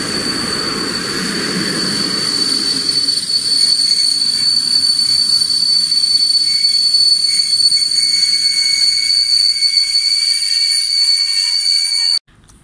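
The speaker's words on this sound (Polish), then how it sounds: "Wjeżdża pociąg TLK Uznam, relacji Świnoujście Warszawa Gdańska." TLK Uznam passenger train, hauled by EP07 electric locomotive 174, pulls into Goleniów station: a loud rumble with sustained high wheel squeal and a whistle-like tone that carry steadily until an abrupt stop near the end.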